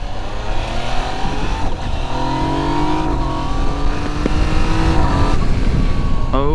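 A 2019 Yamaha Niken GT three-wheeled motorcycle accelerates hard through quick-shifted gears, its engine note climbing in rising sweeps with abrupt drops at each upshift, loud and close with steady wind roar underneath.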